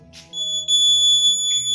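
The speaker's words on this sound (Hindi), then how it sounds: "किसी भी साइड से जब कोई एंटर करेगा ना तो ये जो बज़र है वो साउंड करेगा।" A buzzer on a students' home-entry alarm project sounds a steady, loud electronic tone that holds continuously, with a brief noisy burst near the start and low background hum underneath.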